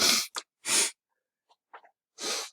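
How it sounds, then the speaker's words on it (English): Three loud, sharp sneezes close by, each a sudden broadband burst, separated by short pauses and a few faint breaths. "I got a sneezing attack here"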